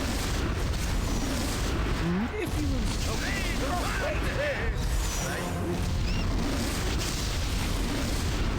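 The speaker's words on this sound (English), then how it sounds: "Oh no, the beholder's firing." Booming blasts and crashing impacts as a beholder fires in Baldur's Gate 2: Shadows of Amn, loud bursts over a dense game soundscape with voices speaking throughout.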